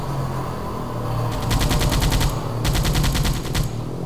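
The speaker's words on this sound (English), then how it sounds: "he's only machine gunning me" Scout plane strafing a surfaced submarine in Silent Hunter 4: two loud bursts of rapid machine-gun fire, each lasting about a second, rattle over a steady low engine drone with no talk.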